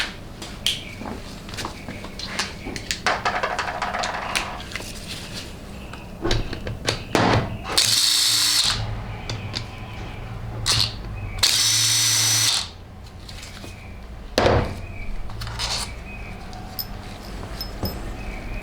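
Power tool removing 8mm bolts from a 6L80E transmission valve body (2006-2010 version), with two loud, close whirring bursts of a drill or impact driver amid clicks, knocks and handling noise.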